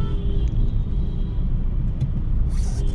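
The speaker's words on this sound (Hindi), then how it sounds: "मैं एक नंबर गियर में लगातार यहाँ पर क्रॉल कर" A car crawls in first gear through bumper-to-bumper heavy traffic, a steady low engine and road rumble from inside the cabin with a faint hiss of surrounding vehicles near the end.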